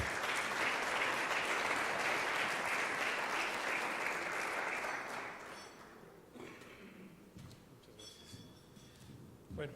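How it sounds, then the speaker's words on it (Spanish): An audience applauds a speaker: dense, loud clapping that fades after about five seconds into scattered claps and faint murmurs. "lo recibimos con un fuerte aplauso a Gabriel Cuadri de la Torre"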